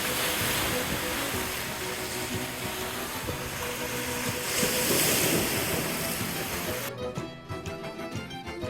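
Rough sea waves breaking below a seawall at Taranto, Italy, a loud continuous roar of surf and splashing with wind buffeting the microphone, easing slightly near the end.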